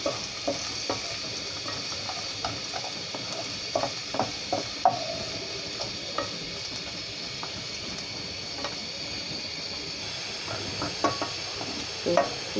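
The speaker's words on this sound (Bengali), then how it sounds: "এখানে আমি এখন পেঁয়াজ কুচি দিয়ে দিব" Chopped onion frying in a pan for mutton rezala, a continuous soft sizzle and hiss with scattered clicks and scrapes of stirring, close and without voices.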